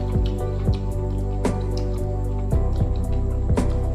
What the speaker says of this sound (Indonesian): Diaduk dulu Kak, biar merata